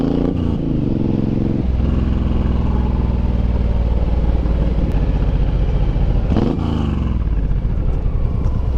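A Suzuki M109R motorcycle engine runs loud and close, its rumble climbing as it revs up, with a brief dip partway through, no voices.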